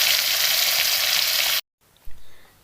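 Fish fillets frying in hot oil in a pan give a loud, steady, dense sizzle that cuts off abruptly, followed by quiet room tone and a brief clatter.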